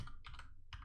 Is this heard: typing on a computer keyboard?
yes